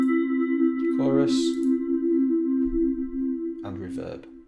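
A synth pad with a chorus effect plays in Arturia Pigments 3, giving a sustained, slightly thickened tone that holds steady. Brief bursts of talking come in over it near the start and the end.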